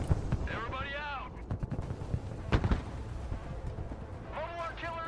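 Gunfire and artillery in the real-time war game Broken Arrow, scattered sharp shots and heavy thuds, some close and loud, while voices speak over the battle.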